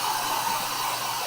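A hair dryer powered by a BLUETTI AC180 portable power station runs on its highest setting, drawing about 1390 watts, with a loud, steady, close-up whooshing hum and no talk.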